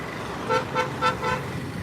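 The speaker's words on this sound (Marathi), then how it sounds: "किती फास्ट जात आहेत गाड्या बाबा थोडा पण त्यांना धीर नाही आहे" Vehicles whoosh past quickly on a road in fine weather, a few brief passes rising and fading with a short horn-like toot, over steady outdoor traffic background; no talk.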